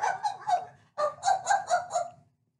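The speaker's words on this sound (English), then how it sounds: "he stopped and barked happily" A dog at a hot dog stand by the sea gives a short run of happy barks, two quick bursts, a pause, then four more evenly spaced, close and clear.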